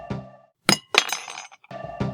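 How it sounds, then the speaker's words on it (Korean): Chopsticks dropped onto a table at a drinking gathering give several bright, clattering clinks in quick separate bursts, close and fairly loud. "누군가 젓가락을 떨어뜨리는 소리"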